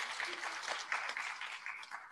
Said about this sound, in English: Can we clap for our fallen mothers?